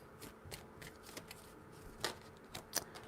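Quiet riffling and soft slaps of a deck of cards being shuffled, a few brief bursts over a hushed background.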